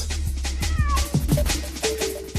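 A ragdoll cat meows repeatedly, loud and close, with several rising and falling calls running into each other over a steady low hum.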